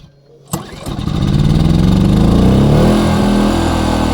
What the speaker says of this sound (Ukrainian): Переводимо в положення ON і запускаємо.